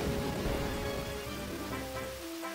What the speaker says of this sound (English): but also now there's a thunderstorm